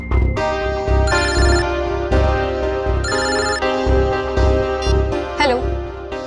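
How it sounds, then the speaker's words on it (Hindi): A telephone ringtone in a crime drama scene plays a loud, bright, repeating electronic melody in steady phrases across the whole stretch, with no talking over it. "मैं अभी नम्रता को फोन करता हूँ।"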